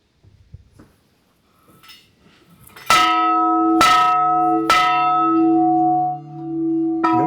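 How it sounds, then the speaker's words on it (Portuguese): Three loud, ringing strikes of a wish bell at a historic site on an eco-historical outing along the Bacanga River, each tone sustaining into the next and fading slowly after the last. "faz um pedido e toca 3 vezes o sino"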